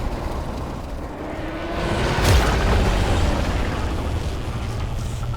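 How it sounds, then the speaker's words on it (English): A deep boom from an explosion in the video game Warframe swells around two seconds in, then a low rumbling roar lingers through the rest under a steady noisy game backdrop. "There should be useful detritus falling from the explosion"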